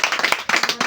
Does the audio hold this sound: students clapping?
yes